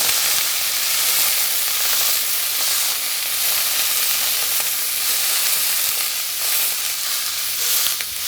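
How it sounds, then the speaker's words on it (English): Duck breast fries in a hot pan as it is flipped from the skin side, giving a loud, dense, continuous sizzle with bright spitting crackle from start to finish, no talk. "we turn the breast over so we cook the other side."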